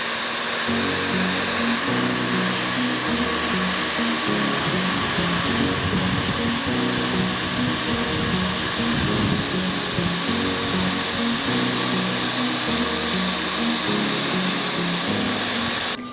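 A heat gun blows hot air with a loud, steady, unbroken roar that holds an even pitch throughout, with no voices.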